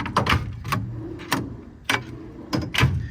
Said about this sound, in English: All these drawers slide super easily.